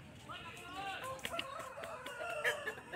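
A rooster at a rural poultry market in Jhargram, West Bengal gives a short, faint crow with a few clucks, heard alone at a distance.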